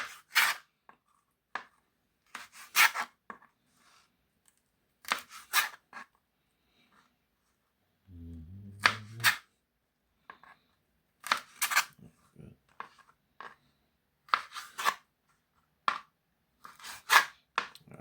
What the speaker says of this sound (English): Okay, cut the ends off.